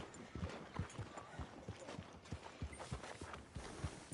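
Hooves clip-clop steadily from a horse walking in Red Dead Redemption 2, a close, even rhythm of soft thuds over faint outdoor ambience.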